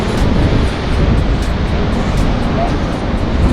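Ocean surf and wind at Kanyakumari, where the Bay of Bengal, Arabian Sea and Indian Ocean meet, make a loud, steady, broad roar, with gusts buffeting the microphone throughout.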